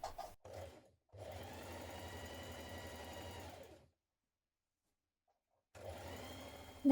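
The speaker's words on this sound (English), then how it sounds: "you're going to take your back pieces and stitch the darts in position" A sewing machine stitches darts into waistcoat back pieces, running in a steady close whir for a few seconds, stopping into silence, then starting again near the end.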